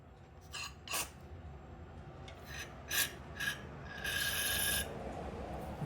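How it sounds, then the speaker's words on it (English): A can of CRC cleaner with a rubber tip sprays into the fuel fitting of a Norton carburetor in several short hissing bursts, ending in one longer spray, close and moderately loud against quiet background noise. "take my CRC cleaner, with the rubber tip, stick it on here and just spray the heck out of it"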